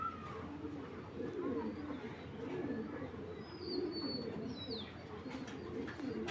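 Racing pigeon cooing in soft, repeated low murmurs over a faint continuous background, with a few distant higher chirps, quiet and fairly near.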